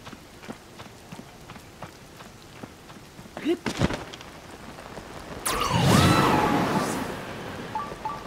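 Steady rain in The Legend of Zelda: Tears of the Kingdom patters under sparse clicks and footsteps, then a louder burst of splashing, rushing noise swells near the end.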